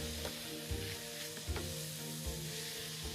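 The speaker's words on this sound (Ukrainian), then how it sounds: "Гриби підсмажились впродовж п'яти хвилин на середньому вогні." Sliced mushrooms sizzle steadily in garlic oil in a pan over medium heat, a continuous frying hiss with a few soft stirring knocks, close and alone.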